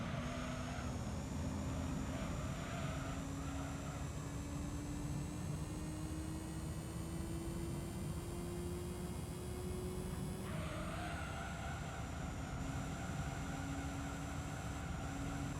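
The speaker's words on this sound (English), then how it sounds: "It's a really good sounding car." A Spoon S2000 race car engine in Gran Turismo 3 drones steadily at a constant pitch, slowly climbing, then briefly shifts; no voices, just a continuous smooth whine.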